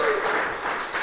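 Applause from a church congregation during a worship service, a steady continuous wash of many hands clapping at fairly even loudness for about a second, with faint speech underneath.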